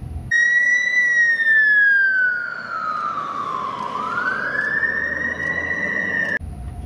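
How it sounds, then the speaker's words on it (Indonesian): A single wailing fire truck siren sweeps down slowly then rises again, a clear whistling tone close by, cutting off abruptly near the end. "Di sini ada mobil pemadam kebakaran."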